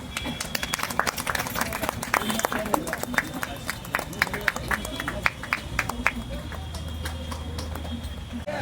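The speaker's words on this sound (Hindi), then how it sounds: "तालियां सम्मान।" An audience claps in scattered, uneven bursts at a public gathering, the sharp claps rising and thinning across several seconds while a voice talks over them.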